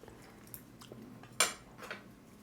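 A spoon clinks once or twice against a dish of Japanese curry, a quiet close tap in an otherwise hushed room.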